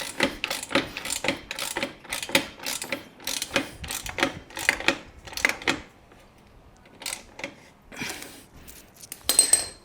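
Ratchet wrench tightening exhaust clamp bolts on a CFMoto 800MT motorcycle, a series of quick metallic clicking bursts in uneven clusters, close and moderately quiet, with short pauses between strokes.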